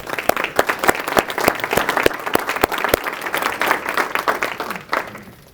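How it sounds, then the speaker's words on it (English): An audience at a conference talk claps for several seconds, dense and fairly loud applause that thins out and fades toward the end. "Round of applause."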